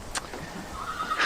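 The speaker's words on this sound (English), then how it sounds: "And that's a fine horse." A horse whinnies in a short, rising cry that sits over faint background noise.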